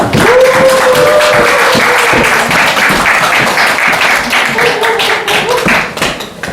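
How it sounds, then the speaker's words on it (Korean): An audience at a humanities concert in a Jecheon village claps loudly and steadily as a musical singer is welcomed onto the stage, with a tonal sound running briefly through the dense applause. "큰 박수로 맞이해 주세요"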